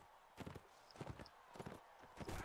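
Horse hooves clop in Mount and Blade: Warband, a practice horse's steps landing in quick irregular clusters of moderate-loudness thuds over a steady game backdrop.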